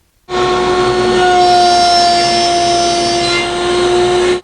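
Router cutting dovetail pins in wood guided by an INCRA LS Positioner; a loud, steady high motor whine starts abruptly, holds for about four seconds, then cuts off, with no talk.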